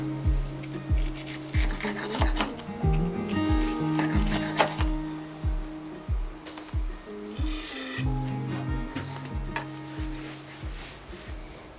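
A knife cuts a twice-fried tonkatsu pork cutlet into bite-size pieces, making repeated crisp scraping and crunching strokes in a steady rhythm, close and moderately quiet.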